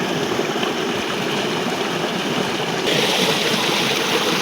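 Water from a solar-powered tube well gushes into an old channel in a steady, close rush, the splashing roar staying constant and growing a little brighter partway through.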